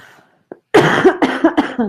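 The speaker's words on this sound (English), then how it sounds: "I might need to cough actually." A short burst of several close, loud coughs in quick succession, following a faint throat noise, with no talking.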